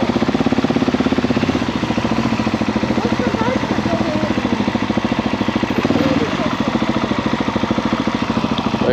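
Single-cylinder KTM SMC-R 690 motorcycle exhaust burbling and popping steadily with a fast, continuous rhythmic thump, loud and close throughout, with wind noise on the ride.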